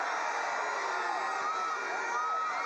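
A stadium crowd at a Dominica vs Dominican Republic Concacaf Nations League football match cheers and whoops over a player's dribbling, a dense, sustained roar of many voices filling the whole moment.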